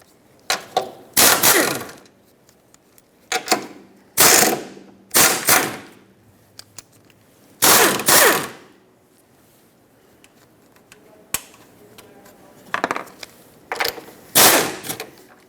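Ratchet wrench loosening the 14mm and 12mm strut mounting nuts on a 2008-2012 Honda Accord, heard as several separate bursts of rapid, loud clicking with short pauses between them and no talking.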